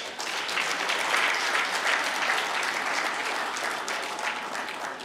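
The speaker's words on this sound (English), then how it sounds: "And clap for yourselves for that." An audience at a passionate speech about Nigeria claps steadily throughout, a dense, even wash of applause with no voices over it.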